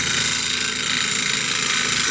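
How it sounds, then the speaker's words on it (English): A bench grinder runs steadily while a woodturning bowl gouge is sharpened, producing a loud, continuous broadband whir and hiss that stays even throughout. "Now I'll start up and we'll sharpen the bowl gouge."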